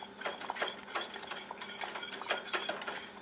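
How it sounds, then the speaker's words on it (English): Metal spoon clinking against a pan as feta cheese is stirred into a hot sauce, with light repeated taps and scrapes in an irregular rhythm, close and fairly quiet. "Stir it in."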